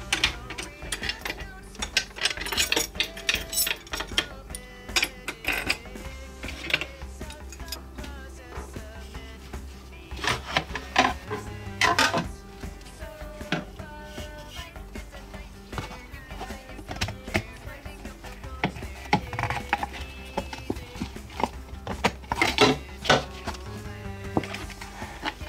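Metal lugs being loosened and removed one by one from bongo drum heads, giving repeated close ratcheting clicks and small clanks with light tapping throughout.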